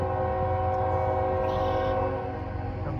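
A northbound CSX or Norfolk Southern freight train passes close by with a loud, steady rumble and sustained tonal drone, likely its horn, which eases slightly toward the end.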